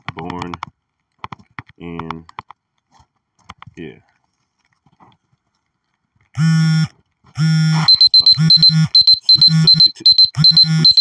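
An electronic alarm clock beeping in fast, loud, repeating bursts toward the end, after a stretch of sparse, clipped electronic tones and short blips.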